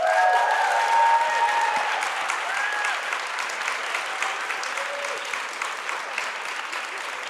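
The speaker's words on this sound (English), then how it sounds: "please clap now" An audience at a live debate event applauds in sustained, dense clapping that fades slightly toward the end, with no voices over it.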